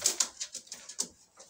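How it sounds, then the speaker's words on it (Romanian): An old racing pigeon held in the hand gives a quick run of soft, rhythmic fluttering bursts, about eight close pulses in a row, with no voices. "porumbelul ăsta pe care l-am acum în mână"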